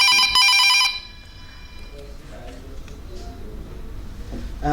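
A telephone rings loudly for about a second with a bright, repeated electronic trill, then stops, leaving a low room hum and faint background noise.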